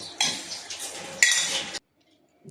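A polished silver bowl, freshly cleaned of yellow tarnish, clinks and rattles bright and close as it is handled, in a busy metallic burst that stops abruptly into silence.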